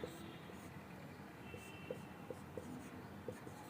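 Someone writes a chemical reaction product on a board in a quiet room, faint with soft regular taps and scratches spaced through a low background hum, no speech.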